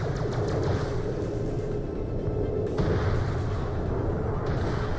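Continuous gunfire in Borderlands: The Pre-Sequel, a dense, loud stream of shots and impacts mixed with game sounds and music, with no pause throughout.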